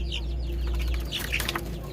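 Native hill chicks of a local chicken breed peep in quick, high chirps over a steady low hum, with a few wing flutters near the end.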